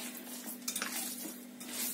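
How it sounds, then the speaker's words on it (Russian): Minced meat for homemade chebureki dough-filling is mixed by hand in a bowl, giving soft, wet squelching and slapping sounds, close and quiet, with no talking. "фарш вымешиваю руками"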